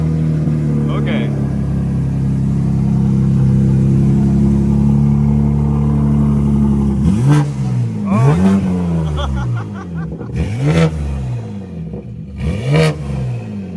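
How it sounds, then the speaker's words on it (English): A 900 hp 2025 BMW M4 with its exhaust valves open starts up and idles loudly, then revs hard in several sharp bursts that rise and fall, close by, with people talking nearby. "He's gonna start up the car. Let's see what this thing sounds like. The valves are open right now."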